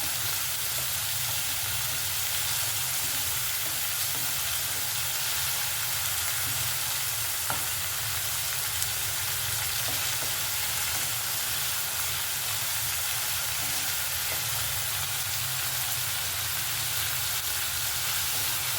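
Cucumber pieces fry in a pan for a Telugu-style pickle, giving a steady, even sizzle that runs loud and unbroken from start to finish, with no voices over it.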